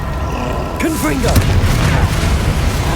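Confringo fire spells exploding in the video game Hogwarts Legacy, heavy booming blasts with low rumble following a few brief magical whooshes, loud and close.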